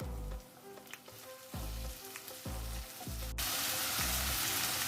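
Chopped tomatoes drop onto softened onions in a hot pan, setting off a steady, close sizzle with repeated soft thuds of stirring, and the hiss grows louder and denser near the end.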